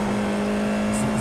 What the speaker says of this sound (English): Very tentative on the throttle, as you can hear.